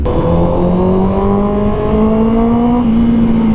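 A 2024 Honda CB650R E-Clutch with an upgraded aftermarket exhaust revs hard up close, its loud engine note climbing steadily in pitch with no voices over it.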